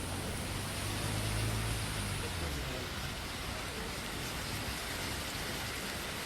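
Heavy rain pours down in a steady, dense hiss that stays even throughout, with a low rumble early on and no voices.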